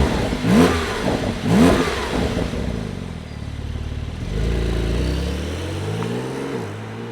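A Porsche 911 Turbo S engine fires up with a couple of sharp revving blips, then settles into a deep, steady idle rumble, close and loud with no voices.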